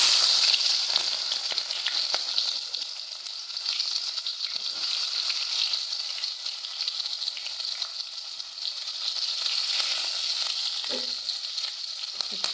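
Small onions (shallots) drop into hot oil for a ginger curry, giving a loud, continuous crackling sizzle with occasional stirring, steady for the whole stretch and free of talking.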